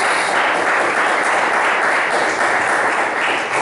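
A church congregation at a Sunday worship service claps enthusiastically, a dense, steady wash of applause that stays loud and even throughout, with no talk over it.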